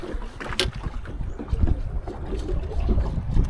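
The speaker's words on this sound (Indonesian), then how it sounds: "Anginnya masih kencang bosku." Strong wind blows at sea around a small fishing boat during jigging, a steady rushing roar with buffeting gusts against the microphone and water noise underneath, loud and continuous with no talk.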